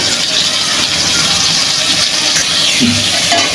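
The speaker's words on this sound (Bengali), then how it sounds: "আমি আলুগুলো ভেজে নেব" Potatoes frying in a pan for a chicken and potato curry, a steady broad sizzle with crackle that runs unbroken throughout, close and fairly loud.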